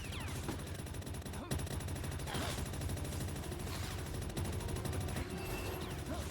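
Rapid bursts of gunfire from the video game Palworld crack out in repeated volleys over a steady din, with a voice talking faintly underneath.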